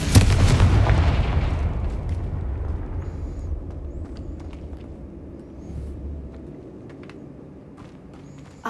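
Cast in Hogwarts Legacy, a Confringo fire-blast spell erupts in a loud, booming explosion, its deep rumble decaying over several seconds, followed by scattered faint crackles and a smaller swell of rumble near the end.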